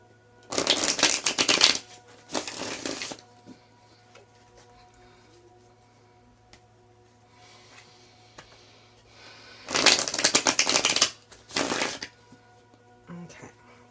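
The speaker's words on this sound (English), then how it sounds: "Let's go ahead and pull the action cards and see what sort of action you need to take." Tarot cards are shuffled in two bursts of crisp riffling and flicking, each lasting about two seconds, separated by a long quiet stretch with only faint handling and a low electrical hum.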